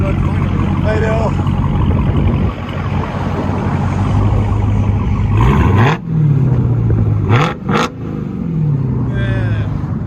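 A 2021 Dodge Charger SRT Hellcat with a Dynomax Race Bullets dual exhaust idles with a deep rumble, then revs in several sharp, loud rises and falls, the exhaust blaring up close while people talk nearby.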